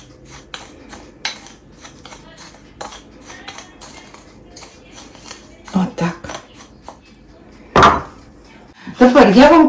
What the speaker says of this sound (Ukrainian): І всі ці сухарі перемішуємо.